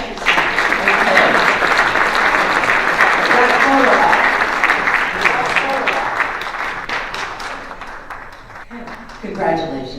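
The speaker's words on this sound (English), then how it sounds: "Members, please recognize and thank Dick with your applause." An audience at a Kiwanis club meeting applauds a newly installed president-elect, with dense, steady clapping from a roomful of people that gradually thins out, and a voice speaks briefly near the end.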